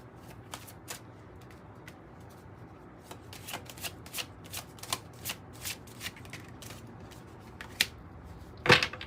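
A deck of oracle cards being shuffled, soft papery riffles and flicks repeating at an uneven pace, close and quiet, ending in a sharper burst of card handling.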